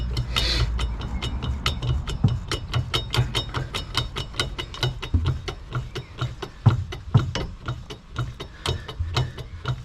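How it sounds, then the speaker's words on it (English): Motorhome jack being pumped with a bar in its slot, giving a steady run of sharp metallic ratcheting clicks at an even rhythm, close by and moderately loud with no talking. "we'll get that bar in the slot there and start jacking away."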